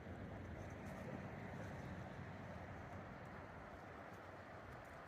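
The Salmon River in Idaho rushes along on a moonlit night, a steady, dense wash of flowing water that holds an even level throughout with no voices.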